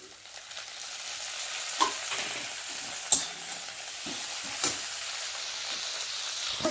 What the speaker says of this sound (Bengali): এখানে পেঁয়াজটা আমার খুব সুন্দর ভাজা হয়ে গেছে। এবারে দিয়ে দেব কুচিয়ে রাখা টমেটো আর কাঁচা লঙ্কা।